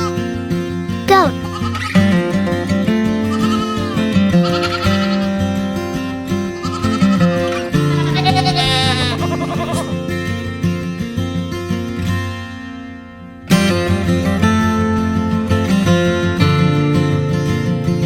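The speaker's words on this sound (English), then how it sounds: "Goat." A goat bleats several times, wavering calls set over a bright, busy children's music backing track, with a short pause before the music resumes.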